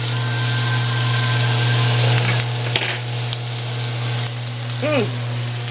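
Pork fried rice stir-fried in a small wok, with a loud continuous sizzle and scraping tosses close up, a steady hum underneath and a faint brief voice-like sound near the end.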